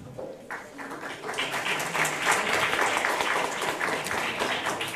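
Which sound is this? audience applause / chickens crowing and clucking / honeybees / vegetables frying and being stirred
audience applause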